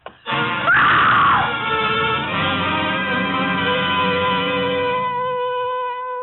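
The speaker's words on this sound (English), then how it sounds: "It was a good loud scream." A loud, long scream from a woman in a 1950 radio murder drama, rising sharply, peaking early and then holding a sustained, slowly fading wail for several seconds.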